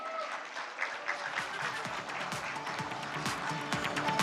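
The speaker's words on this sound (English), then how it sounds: "I think we give them a loud round of applause." An audience applauds at a live political summit in a hall, the clapping building into a dense, continuous wash that grows slightly louder toward the end, with faint crowd noise beneath.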